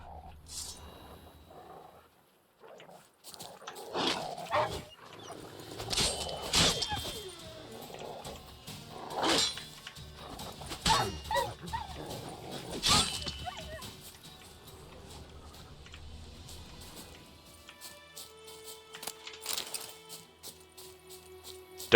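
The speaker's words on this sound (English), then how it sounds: "Wild dogs." Wild dogs in The Witcher 3: Wild Hunt, a run of snarls and growls with sharp combat hits across the middle of the fight, mixed with game effects and a voice talking at times.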